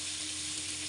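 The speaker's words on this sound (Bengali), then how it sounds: "এখন আমি আলুগুলো সুন্দর করে ভেজে নিব" Potato pieces seasoned with salt and turmeric frying in oil in a wok, a steady, close, hissing sizzle that holds without pause for a moment, with no talking.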